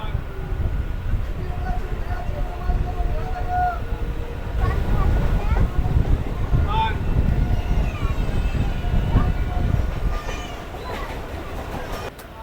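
Sealdah–Hasanabad local train pulling into a single-platform station, a steady rumble of wheels and carriages with faint clatter throughout, then easing slightly near the end.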